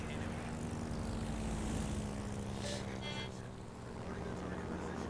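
Torpedo planes in the naval video game World of Warships fly overhead as a steady, droning propeller engine hum that fills the scene, with faint game effects layered on top.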